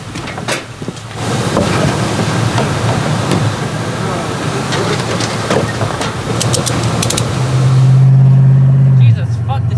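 A Mustang with no torque converter fitted drives along, its engine and road noise rumbling steadily and then swelling into a louder, sustained acceleration near the end, all from inside the car.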